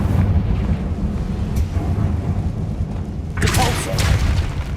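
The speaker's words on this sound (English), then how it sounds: "Confringo." In Hogwarts Legacy, a Confringo fire spell bursts with a sharp explosive blast late in the moment, rising out of a steady low rumble of game ambience.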